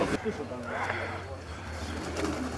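Racing pigeons coo softly at close range in a short, steady stretch over a low background hum, with no one speaking.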